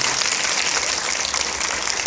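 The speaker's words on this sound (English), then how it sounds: "Can we give them a round of applause, please?" Steady applause from an audience at a HotDocs documentary screening Q&A, dense, sustained clapping throughout with no voices over it.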